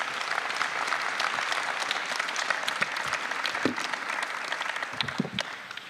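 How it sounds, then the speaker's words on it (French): A town council chamber in Bry-sur-Marne applauds a newly appointed deputy mayor: a continuous, moderately loud round of many hands clapping, even and sustained with scattered sharper claps. "Vous pouvez l'applaudir."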